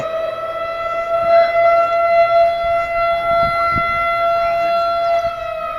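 A loud, sustained civil defense siren holds a steady wailing tone throughout, with faint voices underneath.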